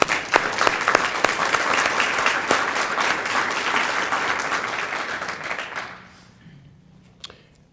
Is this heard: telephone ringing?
no